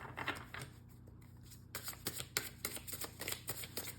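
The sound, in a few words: tarot cards being shuffled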